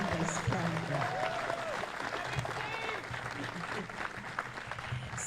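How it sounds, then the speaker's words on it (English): Audience applauding at a community event celebrating a new affordable housing development in Lewiston, a steady wash of clapping that lasts the whole stretch, with a few cheers mixed in. "you all owe her a round of applause"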